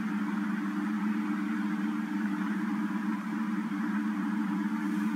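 A lab hot air oven runs steadily while used silica gel regenerates inside, giving a constant close mechanical hum and whir with no change in pace and no talk.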